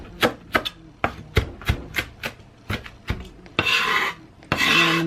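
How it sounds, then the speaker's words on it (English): A knife rough-chopping baby spinach on a cutting board, about ten sharp, evenly spaced chops up close, then two longer rasping scrapes as the leaves are pushed across the board; no talking. "I'm going to go ahead and give some spinach a rough chop"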